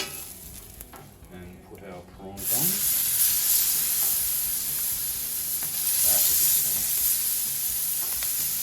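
Prawns sizzling on a grill in a touch of olive oil, a loud, steady hiss that bursts in suddenly after a quieter, muffled opening and stays close and continuous.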